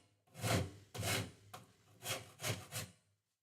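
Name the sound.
Shinto rasp filing wood on guitar body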